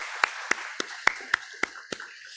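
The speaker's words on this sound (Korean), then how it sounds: "하나님 앞에 영광의 박수 올려드리겠습니다." Seven sharp claps ring out one after another at a fairly steady pace, evenly spaced, with no voices heard, during a church Friday prayer meeting.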